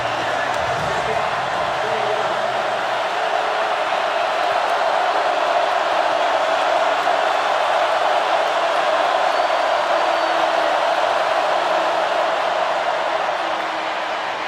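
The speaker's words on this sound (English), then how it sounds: "This crowd's getting loud." A stadium crowd at an SEC college football game, Kentucky at Florida, swells into a loud, steady roar that fills the whole stretch without letup, with a voice talking over it near the start.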